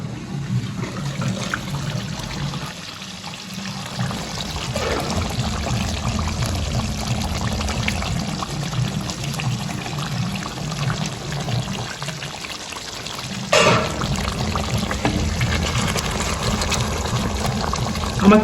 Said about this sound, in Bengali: তো এবারটা আমি এর মধ্যে জলটা দিয়ে দেবো।